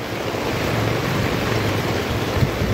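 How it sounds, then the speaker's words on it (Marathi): Steady rain pours down in Mumbai during the monsoon, a continuous broadband wash with constant loudness and no talking. "बघा पाऊस"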